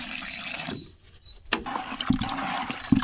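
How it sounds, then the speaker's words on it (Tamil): Water poured onto soil in a container while mixing amirtha karaisal, a natural farm fertilizer solution, giving a close, steady splashing and gurgling pour that breaks briefly before resuming with louder sloshes. "இது தண்ணி ஊற்றி நாம் கரைச்சிக்கலாம்"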